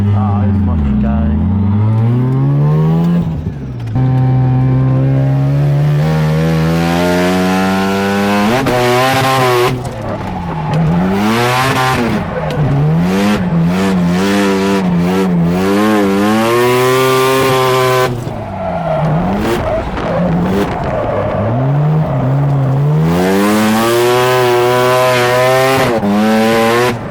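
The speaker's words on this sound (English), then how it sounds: "Better do a burnout" Mazda RX7 drift car at a track day doing a burnout: loud, sustained rotary engine revving in rising and falling sweeps, with tire squeal and a few brief voices over it.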